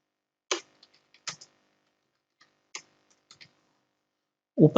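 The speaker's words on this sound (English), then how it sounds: "in the search box type a control panel" Several sparse keystrokes on a computer keyboard while entering a search in the Windows 11 search box, quiet isolated clicks spaced over a few seconds, ending in a louder burst of sound.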